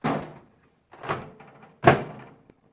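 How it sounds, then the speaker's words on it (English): A new microwave door opened and shut three times, each a short, close thunk with a brief latch click, separated by silence. "That's how it sounds when you open and close the door"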